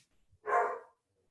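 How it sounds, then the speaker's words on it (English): A dog gives a single short, sharp bark at the mailman, heard indoors at moderate distance against near silence. "my dog is barking at the mailman"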